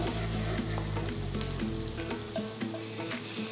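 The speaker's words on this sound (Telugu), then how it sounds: "తర్వాత చీల్చిన రెండు పచ్చిమిరపకాయలు వేసి ఐదు నిమిషాలు ఉల్లిపాయల్ని వేయించాలి" Sliced onions and slit green chillies fry in a pan with a continuous crackling sizzle, punctuated by scattered pops and light stirring scrapes.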